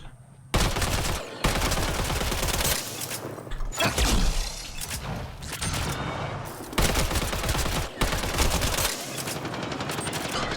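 Rifle fire in Mass Effect Andromeda, with the scope removed: loud bursts of rapid automatic shots in several sustained volleys separated by brief pauses, close and dominant.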